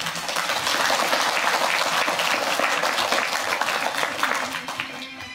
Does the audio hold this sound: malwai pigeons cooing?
no